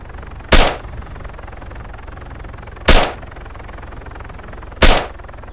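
Three loud, sharp gunshots ring out in ArmA 3 near a gun store, spaced about two seconds apart, each a broadband crack with a short tail over steady low background noise.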